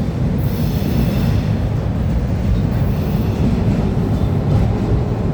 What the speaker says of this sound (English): The symbol for this train is the CSX M252